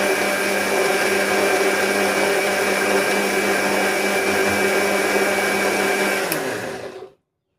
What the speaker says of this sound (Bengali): এবার ব্লেন্ডারের জারটাকে আটকে খুব ভালো করে 1 মিনিটের মতো ব্লেন্ড করে নিচ্ছি।